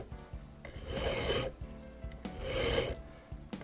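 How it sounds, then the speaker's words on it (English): Hand file rasping across the 45-degree beveled end of a clock pin held in a pin vise, two long close strokes separated by brief pauses, crisp and alone. "File carefully"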